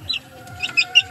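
Laying hens, some of them sick with colds, cluck in a few short, close calls, with soft chirpy notes over a quiet backyard.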